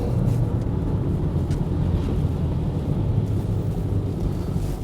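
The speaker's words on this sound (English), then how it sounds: "Driving with the Stelvio makes a lot of fun." An Alfa Romeo Stelvio drives along icy streets, giving a steady low rumble of engine and road noise heard from inside the car, with a dull wind-like roar throughout.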